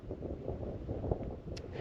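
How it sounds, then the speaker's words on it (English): Steady low rumbling cold wind buffeting the microphone at Namche Bazaar on the Everest Base Camp trek, continuous and fairly loud throughout with no talking. "It's getting windy and the wind is cold"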